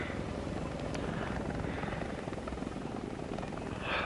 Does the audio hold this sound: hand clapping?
no